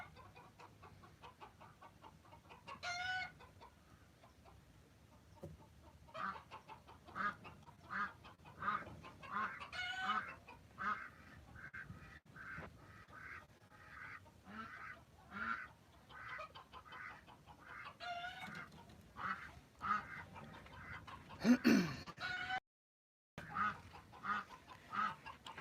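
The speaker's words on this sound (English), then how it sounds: "The ducks are yelling at me because I have to feed them." Ducks honk and quack loudly and repeatedly to be fed in a backyard poultry setting, a busy run of raucous calls close by with brief pauses between bursts.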